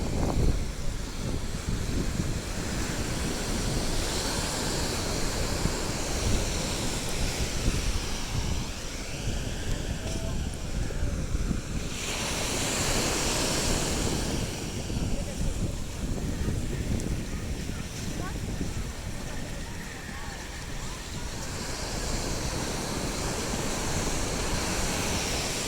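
Small ocean waves wash steadily at Karon Beach in Phuket, Thailand, under constant wind buffeting the microphone, with a brief surge of surf partway through.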